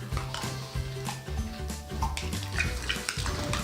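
Sticky slime being stirred in a bowl, giving wet squelching and clicking sounds over a steady background of music, with no one talking.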